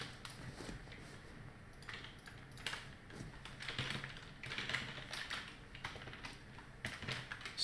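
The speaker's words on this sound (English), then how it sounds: "Sick typing, bro." Someone types steadily on a computer keyboard, quiet irregular key clicks running throughout at close range with no talking.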